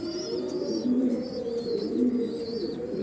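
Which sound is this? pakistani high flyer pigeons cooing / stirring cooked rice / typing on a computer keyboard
pakistani high flyer pigeons cooing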